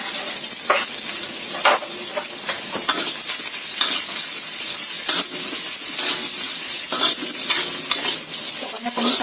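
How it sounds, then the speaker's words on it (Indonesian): Chilies, shallots, garlic, bay leaves and lime leaves stir-fried in a pan, with a steady close sizzle and repeated scraping strokes of a spatula; no talking. "Pokoknya tumis sampai matang bumbu-bumbunya ya"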